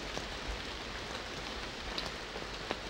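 Steady rain falling in the PS2 game Kaeru Batake de Tsukamaete, a soft, even hiss of drops on surfaces with a few faint patters, continuous and fairly quiet with no voices.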